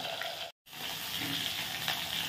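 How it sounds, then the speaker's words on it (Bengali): Small tengra fish fry in hot oil in a home kitchen, a steady, dense sizzle filling the clip with one brief cut to silence, and no talk. "তো মাছগুলো ভেজে নিই।"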